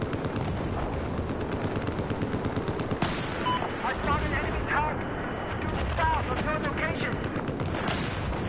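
Rapid gunfire and rifle shots crack through a Battlefield 4 conquest match, bursts of automatic fire mixed with single sniper reports amid battlefield noise and game voices, fairly close and continuous.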